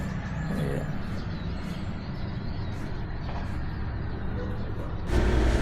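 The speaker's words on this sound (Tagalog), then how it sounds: "Hirap umakyat yung mga malalaking truck dito. Kaya medyo maingay din pag gabi." Large trucks grind up a steep mountain road in Baguio City, a heavy, continuous engine drone that stays loud throughout and swells near the end, with brief faint bird calls and a voice in the background.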